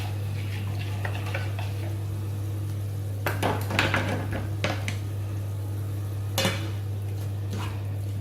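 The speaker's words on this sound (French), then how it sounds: "On remue." Spicy minced meat sauce is stirred in a pot, with a few clustered scraping and clinking strokes of the utensil over a faint low simmer and a steady background hum.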